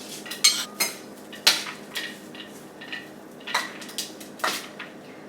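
A spoon clinks sharply against a metal pan in a series of uneven taps and scrapes as a tempering of chana dal, urad dal and peanuts is spooned over rice for ghee rice.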